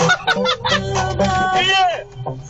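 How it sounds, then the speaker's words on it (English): A pigeon trapped inside a car lets out loud honking, squawking calls in a rapid run, close and frantic, with cabin noise underneath. "There's a fucking pigeon in here!"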